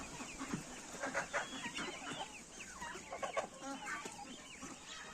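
Chickens cluck and chatter as the flock gathers at empty troughs for a midday feed, several birds overlapping in a busy, moderately close chorus without any talk.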